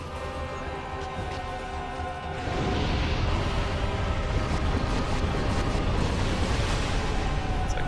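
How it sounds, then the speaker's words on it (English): An explosion in Dark Souls, a loud rumbling blast that swells after a steady droning backdrop and keeps roaring thickly through to the end. "the explosion seems to take most of it."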